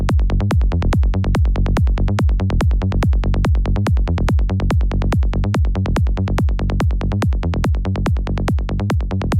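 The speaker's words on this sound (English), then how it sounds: "I do the same here with the kick and bass. So I'm start to EQing or filtering it up so you can hear it like this" Psytrance kick and rolling bassline in an Ableton build-up, the filter slowly opening upward; a loud, relentless four-on-the-floor pulse with rapid bass notes between kicks, running steadily with no voices.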